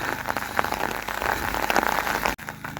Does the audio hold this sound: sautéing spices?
no